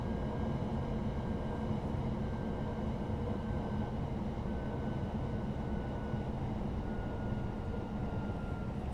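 Steady low rumble of a Talent 2 electric train slowly braking to a stop on a German high-speed line in Train Sim World 2, a continuous even drone with a faint thin whine above it and no talking.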